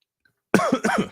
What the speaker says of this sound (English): See, I got a little bit of a cough too.